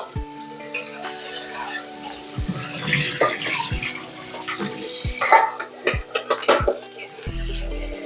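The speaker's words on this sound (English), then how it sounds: "rinse it with cold water" Cold water runs and splashes from a tap over cooked rice in a strainer, with sharp metallic clinks and knocks of a pot scattered throughout, close by.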